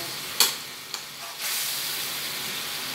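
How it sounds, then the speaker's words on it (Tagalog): Overripe tomatoes cook in a pan: two sharp scraping stirs, then a steady close sizzle that swells and holds. "Niluto ko na itong kamatis kasi pabulok na."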